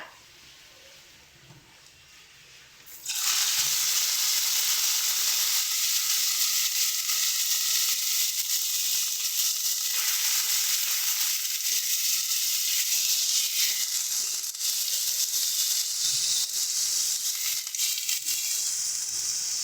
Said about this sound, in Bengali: এবার এটাকে সুন্দর মতন ভাজা ভাজা করবো